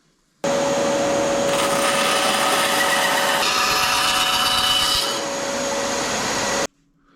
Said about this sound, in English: So I'm just going to trace out the template for them and cut them out.